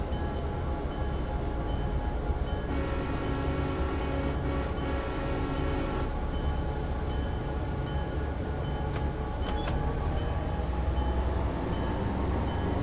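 A Clinchfield Railroad F7 lash-up of four locomotives coupled together runs in a train simulator game, a constant loud diesel rumble with rail noise and a few brief tonal whistles over it.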